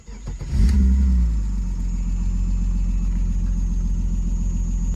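A 1995 BMW M3 engine cranks briefly, then catches and revs sharply before settling into a loud, steady idle close by.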